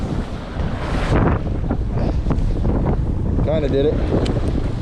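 Strong wind on a Lake Champlain shore, gusty buffeting roar against the microphone with a brief spoken remark and a short whirring sound near the end.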